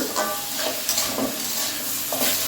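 Drained soaked rice frying in ghee in a wok, with a continuous close sizzle and repeated scraping stirs, no voices over it.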